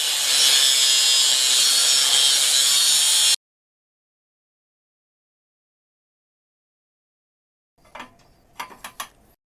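Close, loud cutting on a coilover hoop mount spacer being trimmed down, a steady abrasive grinding roar for about three seconds, then silence, followed by a few short scraping and knocking sounds near the end.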